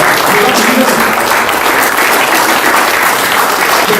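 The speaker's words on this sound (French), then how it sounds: "Donc on va quand même l'applaudir" A dense, loud festival crowd at a comic-book festival in Ajaccio applauds continuously, a thick, even roar of clapping with no pause.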